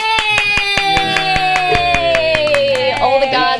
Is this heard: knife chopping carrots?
no